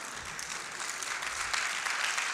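A church congregation claps warmly during an evangelistic service, broad sustained applause from many hands, even and continuous throughout.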